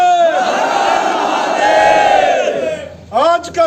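A crowd of young protesters at a Hindu organisations' demonstration over a temple demolition in Indoura, Nurpur, chanting a long sustained slogan in unison, then breaking into shorter shouted bursts.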